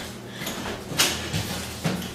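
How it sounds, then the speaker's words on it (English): A door shuts with a soft sliding rush and a firm thump about midway, then a fainter knock, over steady room noise with no voices. "I just shut the door."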